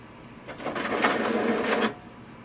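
An HP DeskJet Ink Advantage 3636 inkjet printer prints a confirmation page, its mechanism whirring and clicking up close for about a second and a half before stopping, with no talking.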